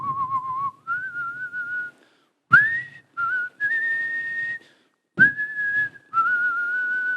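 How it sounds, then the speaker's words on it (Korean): A man whistles a hymn alone, clear sustained tones in short melodic phrases separated by brief pauses and breaths, close and steady. "휘파람을 이렇게 불었어요"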